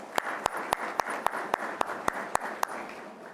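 A crowd at a fire and EMS cadet graduation ceremony claps in steady rhythmic unison, sharp beats at an even pace over a broad wash of applause.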